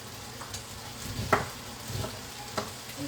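Onions fry in a pan with a quiet sizzle, and a few light scrapes and taps of a utensil are heard close by without any talk.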